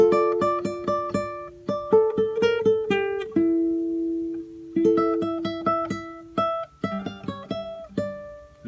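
Guitar picking the melody phrase of a song, a quick run of bright single notes with a held note in the middle, close and clear with no voices.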